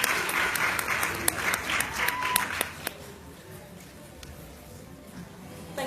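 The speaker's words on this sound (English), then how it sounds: "we give a warm round of applause for our brother from the Al-Qiba land" Warm audience applause at an expert panel event, lively clapping with a few sharp individual claps that fades away after about two and a half seconds, leaving quiet room noise.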